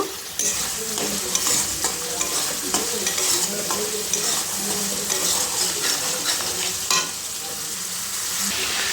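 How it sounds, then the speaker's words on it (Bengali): A spoon stirs masala frying in oil for a tilapia fish curry, with salt and a little sugar added. Steady sizzling runs throughout, broken by repeated scraping strokes against the pan, close and fairly loud, with no talking. "দিয়ে আবার একটু ভালো করে কিছুক্ষণ নাড়িয়ে নেব"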